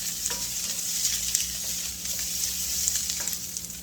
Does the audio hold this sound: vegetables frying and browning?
yes